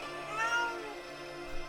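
A cartoon cat in the Okami HD video game gives a short, clear meow, alone against a quiet background hum.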